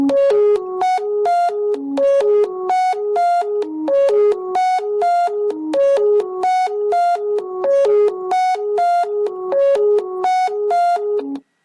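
A pure, electronic-sounding melody made of sine tones repeats a quick, steady arpeggiated riff over and over, loud and clear.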